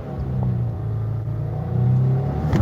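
A 2020 Subaru WRX engine runs close and loud with a low steady rumble, its pitch climbing as it revs and accelerates under load after a clutch drop.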